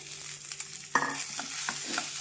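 Mashed small potatoes, torn by hand, are stirred together with spices in a bowl, giving a soft continuous mixing texture with a few sharper scraping knocks, close and steady with no voices.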